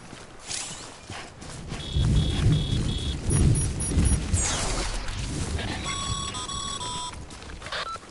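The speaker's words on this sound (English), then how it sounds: "Don't stay out in the rain any longer than you have to." Steady rain hisses throughout in the video game Death Stranding, with low rumbling bursts, while electronic beeping tones chime in short repeated patterns over the downpour.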